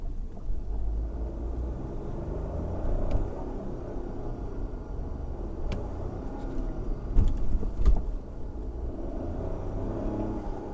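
A 2021 Ford Escape with about 50,000 rental miles and a slipping, jerky transmission, driving with a steady low cabin rumble and road noise throughout, plus a couple of brief knocks near the end.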